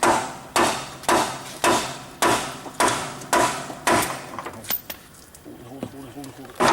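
A hammer pounds on a bolt during a 1964 Corvette restoration, six or seven loud, evenly spaced metallic blows that ring briefly, then lighter taps as voices talk nearby.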